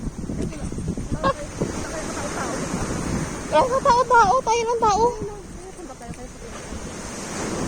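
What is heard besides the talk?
big ocean waves on beach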